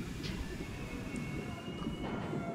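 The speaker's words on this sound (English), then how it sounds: "Then I'm suddenly inside the train." Inside a train in the game A Memoir Blue, a low steady rumble of rolling carriage fills the space, with faint rattles and a thin high whine over the top, continuous and even throughout.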